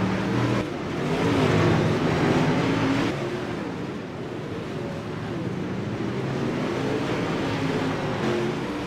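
Dirt modified race cars roar around an indoor dirt track, with a steady engine drone that swells and fades as cars pass, heard at a moderate distance in a large reverberant space.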